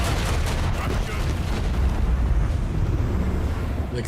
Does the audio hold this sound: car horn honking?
no